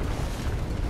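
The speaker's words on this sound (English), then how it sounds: "now we just wait for the explosion to be over" An explosion in the video game Volcanoids rumbles as a dense, continuous low roar at steady loudness across the whole moment, with no voices.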